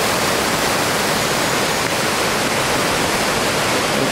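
The Mura river rushing beneath a bridge in Murau, Austria, a steady, dense broadband roar of flowing water that stays constant and fairly loud throughout, with no voices.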